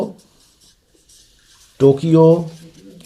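A hand writes during a geography lesson on time calculation, making a faint scratching between stretches of nearby speech that open and close the moment.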